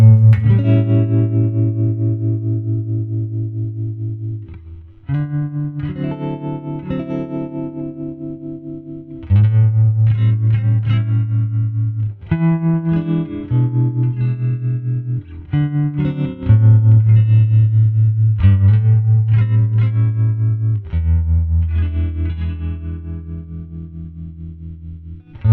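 Electric guitar through a hand-wired Fender Princeton Reverb amp with an Alnico P10R speaker, playing clean, sustained chords and picked notes with reverb tails, alone and close, in phrases separated by brief pauses.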